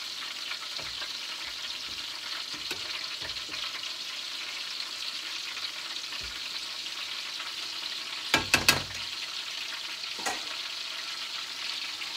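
Apple donuts fry steadily in a pan over low heat, with a constant soft sizzle and a few brief knocks and clinks of a utensil against the pan, no voices.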